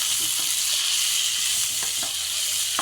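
Spice powders stirred into prawn bhuna frying in a pan, a dense continuous sizzle with a few soft spoon scrapes and taps, close and loud, no talk.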